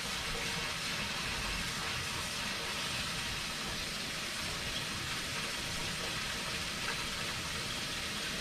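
Water runs from a kitchen tap in a steady, faint, even hiss that continues unbroken throughout.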